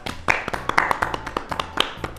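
A studio audience gives uneven applause to welcome a guest, with separate sharp claps at an irregular rhythm and a few hands joining in and dropping out over a couple of seconds.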